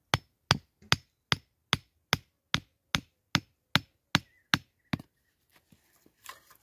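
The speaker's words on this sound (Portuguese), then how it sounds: "Eles vão pegando e batendo no chão aqui, ó." Wooden sticks are hammered one by one into the ground to build a pen around a trap: about a dozen sharp, evenly spaced knocks, close and loud, then quiet outdoor background.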